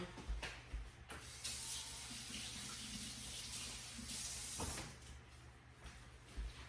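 Tap water runs steadily into a kitchen sink while hands are washed beneath it, a soft continuous splash with a few brief louder bursts.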